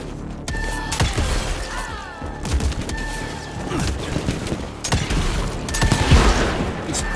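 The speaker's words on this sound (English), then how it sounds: "Explosion." Explosions and gunfire in the video game Evil West: repeated booms, shattering crashes and rapid shots in a loud, dense sequence with brief tonal game cues throughout.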